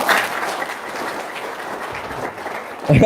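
Dense applause from a seated group at a trader's business seminar, a steady rushing clatter of hands filling the room at moderate loudness, ending with a brief louder bump.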